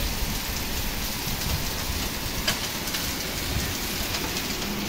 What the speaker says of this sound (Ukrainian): У нас пішов дождик і он град трошки лупе.